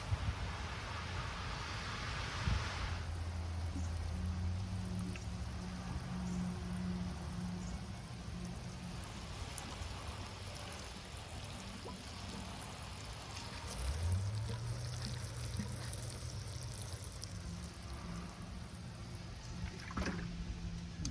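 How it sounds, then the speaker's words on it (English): Water pours and trickles onto an elephant jade (Portulacaria afra) bonsai in a pot, a soft, steady splashing and dribbling that runs close and faint throughout, with a few brief knocks and shifts. "let's get some water on this"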